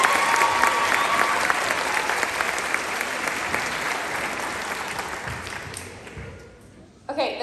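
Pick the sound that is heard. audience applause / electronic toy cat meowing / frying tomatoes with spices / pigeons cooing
audience applause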